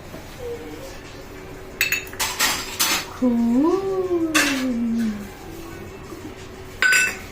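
A spoon clinks against bowls while orange, red and green food colours are mixed for homemade prawn biryani, several sharp metallic taps spread across the stretch, with a voice speaking in the middle.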